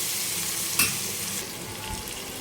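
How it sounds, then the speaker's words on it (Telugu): Cucumber pieces and tomato fry in a pan for a Telangana-style pappu charu, giving a steady soft sizzle with a brief sharp clack of a spoon partway through. "ఈ దోసకాయ ముక్క టమాటా మంచిగా మగ్గే వరకు, పచ్చివాసన పోయే వరకు వేయించుకోవాలి."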